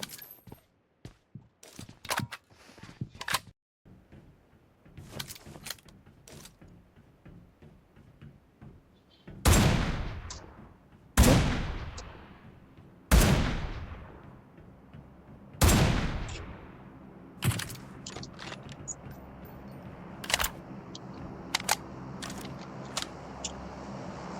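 Gunfire in the mobile battle game BGMI, first a run of quick scattered shots, then several loud, widely spaced booming sniper shots, each ringing out and fading, then lighter ticking shots near the end.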